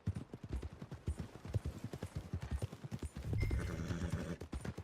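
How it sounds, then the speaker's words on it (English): A horse in the Red Dead Redemption 2 video game clip-clops with a steady rhythm of hoofbeats, then lets out a loud whinnying neigh close by partway through, with no talking. "Buy yourself a horse."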